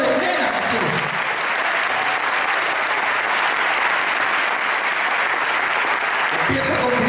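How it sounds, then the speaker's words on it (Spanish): A church congregation claps in dense, sustained applause, the crowd loud and continuous from start to finish with some voices mixed in. "¿Cuánto aplauden a Jesús?"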